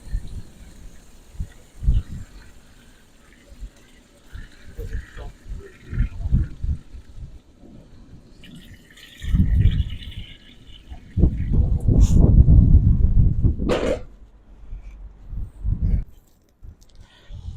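Water is poured into an Afghan kazan pot holding potatoes and pork trotters, filling it about halfway. Intermittent bursts of splashing and pouring are heard, loudest in a long stream near the end.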